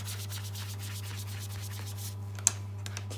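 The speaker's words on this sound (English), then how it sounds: "And then you just scrub away. It does take a little bit of a scrub." An Apple Watch Sport Band is scrubbed to lift dye transfer and stains, giving a soft, steady rubbing texture in quick repeated strokes up close, with a steady low hum underneath and a small click near the end.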